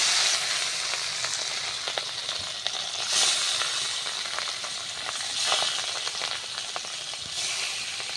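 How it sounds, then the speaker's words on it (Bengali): Pieces of rohu fish fry in hot oil, giving a steady close sizzle and crackle with occasional louder spits and a few stirring clinks. "মাছগুলো ভেজে নিই।"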